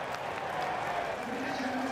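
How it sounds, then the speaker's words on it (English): A baseball crowd at a Nationals–Athletics game gives a soft, distant wash of applause that stays steady throughout, with a broadcaster talking over it. "Applause from the crowd."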